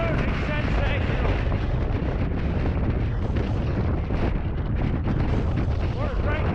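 Strong wind on an exposed Lake District trail roars steadily and loudly into the microphone, a dense unbroken buffeting rush that fills the whole stretch with no pauses.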